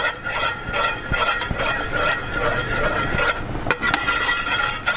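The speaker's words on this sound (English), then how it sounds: "Stir it up real good." A utensil stirs a melted lip balm mixture in a pot, making continuous scraping and clinking strokes against the sides, close and fairly loud, with a few sharper taps.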